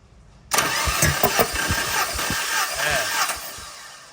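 A Tata engine turns over on the starter during a cylinder three compression test, giving an abrupt loud cranking whir with a rapid, regular pulsing beat that runs for about three seconds, recorded close up.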